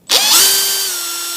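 A power drill with a slow-cutting bit whirs into metal while building an arbor press stand: one loud, close, steady whine that quickly rises in pitch and holds.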